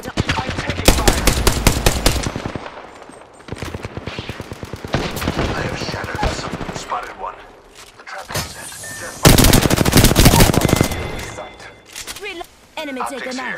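Gunfire in Apex Legends, dense automatic bursts and single shots loud and close, rattling in rapid rhythm with brief lulls, while game voice lines speak over the shooting.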